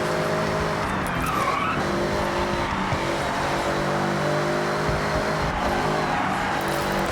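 A fast racing car in Forza Horizon 6, its engine droning loudly and steadily with harmonic revs while tires squeal and skid through corners, continuous throughout with no talking.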